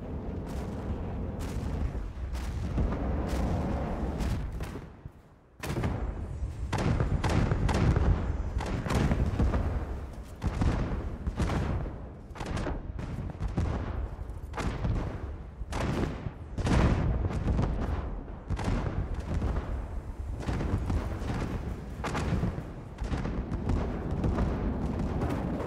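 Helicopter missile fire and explosions in From The Depths, a long, loud run of repeated launches, booms and thuds in quick succession, with one brief lull early on and near-constant blasts after.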